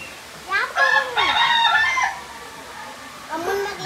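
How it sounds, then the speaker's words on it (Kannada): A rooster crows loudly and close at a village house, one long drawn-out call followed by the start of a second, with no speech. "ಕೋಳಿ ಕೂವಾಗಂತತಿ ಇಲ್ಲಿ ಒಳಗೆ ಇತ್ತು"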